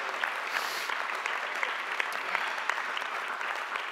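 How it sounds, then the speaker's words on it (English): A church congregation claps hands in a steady, even stream of applause for about four seconds, moderately loud with no voices rising above it. "somebody give the Lord a good hand clap today"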